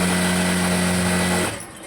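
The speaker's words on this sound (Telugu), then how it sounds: "స్టిచ్ వేసేసుకుంటున్నాను." Sewing machine stitching a cotton pant, a steady close whir with a strong even hum that runs for about a second and a half, then stops abruptly into quiet.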